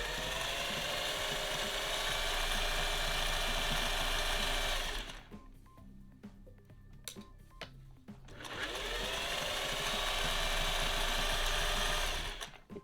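A sewing machine stitching sweater stocking pieces, a loud, rapid mechanical whirring in two long bursts separated by a short pause with light handling sounds.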